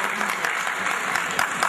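Audience applause in a hall at the 2011 Southeastern Anatolia regional energy forum, steady dense clapping with a few louder bursts, filling the short stretch on its own.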